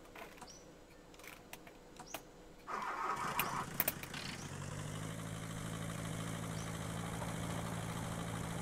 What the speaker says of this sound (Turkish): Aç motoru abi.